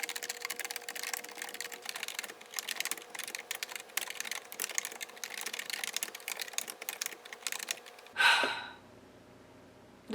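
Fast, irregular clicking of typing on a computer keyboard fills most of the stretch as someone writes a novel, close and fairly quiet, before it stops and a brief breathy sigh follows.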